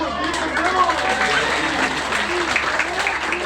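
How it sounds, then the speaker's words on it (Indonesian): An audience applauding at a Balinese traditional ceremony, dense steady clapping and crowd noise throughout, with people talking and calling out over it. "Big applause, this is penamu."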